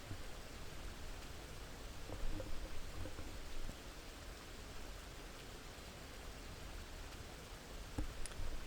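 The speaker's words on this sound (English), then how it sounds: "That sound, the rain, is brilliant." Steady rain hissing in X-Plane 11, a broad even wash of drops with a few sharper ticks, constant and fairly quiet throughout with no voices.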